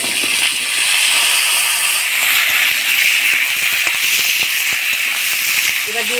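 Potatoes and vegetable stems dropped into hot oil with dried red chilli and whole cumin, a loud steady broad hiss of sizzling with small crackles, while someone talks over it.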